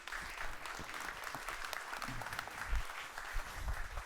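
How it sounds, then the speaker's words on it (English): A conference audience at an event on patents, standards and innovation applauds steadily as the next speaker comes on stage, with the clapping fairly even throughout. "we're going to applaud everyone as they come up on the stage and as they go off as well"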